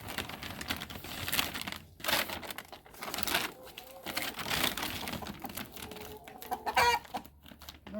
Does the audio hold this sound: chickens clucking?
yes